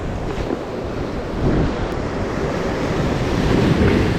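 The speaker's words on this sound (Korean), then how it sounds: "우와 파도 큰 거 온다" Big sea waves surge and crash onto a shallow, rocky shore at a coastal fishing spot in Gyeongju. A continuous roaring wash swells louder toward the end, mixed with wind buffeting the microphone, and nobody speaks.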